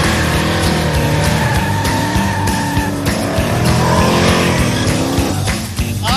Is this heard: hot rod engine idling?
yes